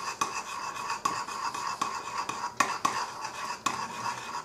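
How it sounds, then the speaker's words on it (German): A spoon stirring semolina into carrot soup in a pot, with repeated sharp scrapes and clinks against the pot's sides in an irregular rhythm, close and fairly loud, no voices. "Das muss man jetzt aber gut mischen, umrühren, das Ganze, damit keine Klumpen entstehen."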